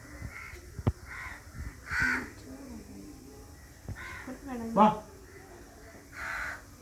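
Several crows caw in short, loud bursts from nearby, spaced irregularly, while a person calls out briefly between them.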